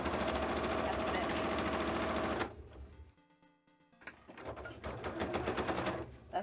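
Sewing machine stitching through thick fabric for a cosplay tail, a loud steady mechanical whir that stops briefly midway, with a quiet pause, then resumes in a slightly uneven run.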